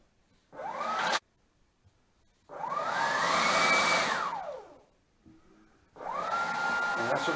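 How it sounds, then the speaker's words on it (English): An RC plane's electric motor spins up at low throttle in three short bursts, each rising to a whining buzz and then dying away, with quiet gaps between them, close to the listener. "And that's only just starting the throttle. Just turning it on a little."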